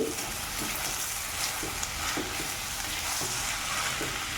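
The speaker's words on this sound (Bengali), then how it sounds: "মশলার সাথে চালটাকে আমি ভালো করে ভেজে নিচ্ছি।" Rice frying with spices in a pan for prawn pulao, a continuous close sizzle broken by rhythmic stirring scrapes about every half second.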